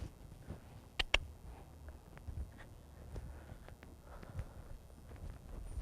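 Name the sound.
horses pulling a forecart, hooves clip-clopping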